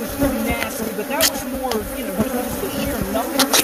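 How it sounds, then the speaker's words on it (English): Swarm of bees buzzing inside an RV, a dense, continuous close drone with individual insects whining past, and faint voices in the background. "there could be a half a million bees in here"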